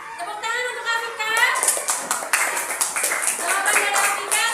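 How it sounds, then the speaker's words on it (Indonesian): A class of schoolchildren claps for a student, an uneven patter of small hands that swells partway through, mixed with children's voices and cheerful chatter throughout. "Tepuk tangan untuk Afika"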